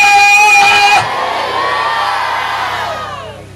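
A church congregation cheers and shouts loudly with a sharp whistle at first, then the noise settles into a sustained, echoing roar of voices that slowly fades.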